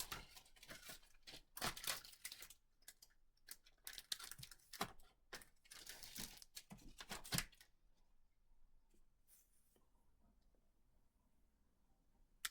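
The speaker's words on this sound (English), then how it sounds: "sorry if there was a lot of crinkling right there" Packaging paper and plastic crinkle and tear while a birthday and Christmas gift is unwrapped, close and fairly quiet, in a busy run of rustles and rips that stops abruptly and leaves near silence.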